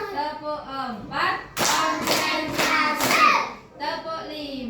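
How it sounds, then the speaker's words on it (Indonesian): Kindergarten children at TK Muslimat clapping their hands in a class counting routine: a burst of several quick, sharp claps close by, framed by children's chanting voices before and after. "Tepuk empat."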